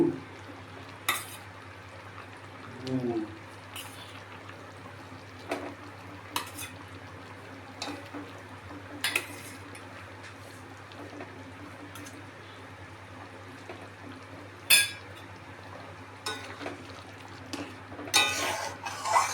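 Boiled eggs dropped one at a time into simmering egg korma gravy in a pan, with soft stirring, occasional sharp clinks of utensil against pot, and a low steady simmer underneath.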